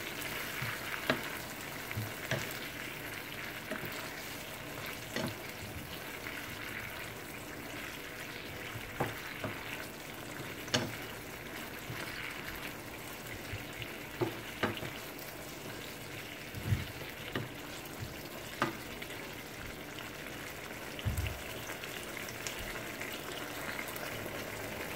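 Tinned mackerel stirred in a pan over the stove for a Jamaican-style dish, giving a steady low sizzle with scattered scraping and tapping clicks from the spoon, close and fairly soft, no talking.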